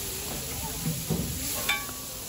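Minced mutton keema frying in a pan, a soft steady sizzle with a few scraping stirs and a light metallic clink near the end, close and fairly quiet.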